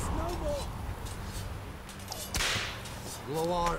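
Sharp whip cracks in The Witcher 3 role-playing game, one loud lash standing out midway with fainter lashes around it, while characters talk over the scene.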